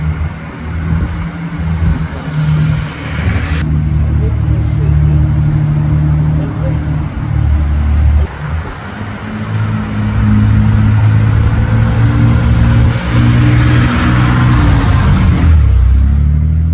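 First-generation BMW E12 518 with a high-performance motor revs steadily and loudly up close, a continuous low engine drone rising and falling in pitch for several seconds.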